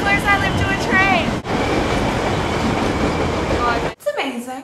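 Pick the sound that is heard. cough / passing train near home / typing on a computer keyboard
passing train near home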